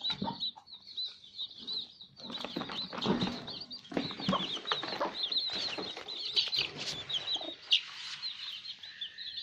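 A broody hen sits over newborn chicks as eggs hatch, giving soft, repeated clucks and murmurs mixed with high, thin peeping that runs continuously at close range.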